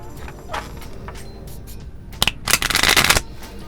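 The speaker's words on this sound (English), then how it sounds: "one more shuffle real quick before I toss" Tarot cards being shuffled by hand, a quiet riffle first, then a louder burst of fast crisp flutters close by, with no talking.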